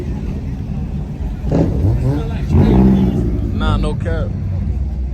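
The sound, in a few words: cars, including Hondas, driving past at a night car meet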